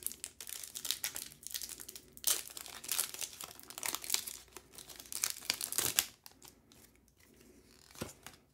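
A Pokemon card pack being torn open and its foil wrapper crinkled, close and crisp in repeated ripping bursts, then quieter rustles toward the end, with no speech.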